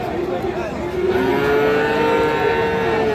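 A young Friesian bull calf gives a long, loud moo close by at a cattle market, with faint crowd murmur in the background.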